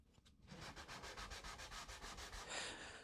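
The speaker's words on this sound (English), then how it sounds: "when you go to sand this section, the top piece" Hand sanding on the top piece of a wooden window sash during restoration, a quiet rhythmic rasp of even back-and-forth strokes, close and steady.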